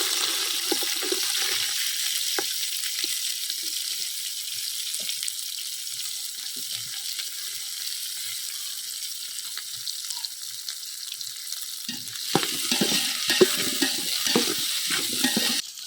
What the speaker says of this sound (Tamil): வெங்காயம் சேர்த்துக்கலாங்க கட் பண்ணி வச்ச வெங்காயத்தை